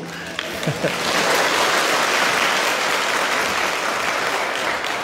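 Listeners at a Buddhist dharma talk break into applause that quickly swells into a thick, continuous clatter of many hands and stays level to the end.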